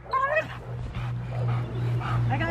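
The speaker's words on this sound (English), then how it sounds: "Say, send him to bark, Rivier." A Rottweiler whimpers and yips in short, high-pitched bursts over a low steady hum, with a brief bark-like yelp near the start.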